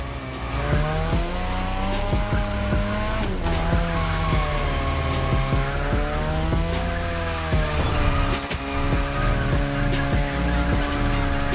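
A Mazda RX-7 2.0 racing in The Crew Motorfest, its rotary engine holding a loud high-pitched drone that rises and falls through gear changes, with tires squealing in places and no voices.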